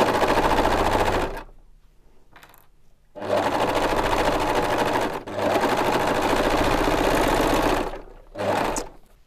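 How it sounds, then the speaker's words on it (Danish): A sewing machine stitches the seam around the head of a fabric elephant hat in rapid mechanical bursts: a long run, a pause, two more long runs and a short final burst, close and loud. "Så fik jeg syet sømmen rundt om hovedet."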